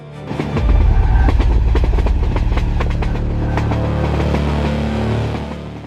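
The Train to the Clouds rolling past at close range on a high-altitude mountain railway, steady heavy rumble with rhythmic clicking of wheels over rail joints, fading slightly at the end.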